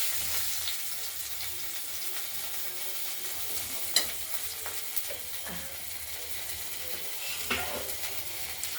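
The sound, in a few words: cumin seeds sizzling in hot oil for tempering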